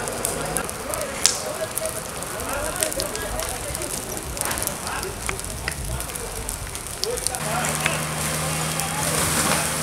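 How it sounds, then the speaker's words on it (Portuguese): A Volkswagen Gol car burns outdoors at a municipal stadium in Rialma, Brazil; the fire crackles and roars steadily with constant popping and hissing. Voices murmur in the background, and a low engine hum joins near the end. "Um veículo, um Gol, pegando fogo aqui no estádio municipal de Realma."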